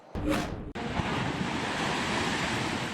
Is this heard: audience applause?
no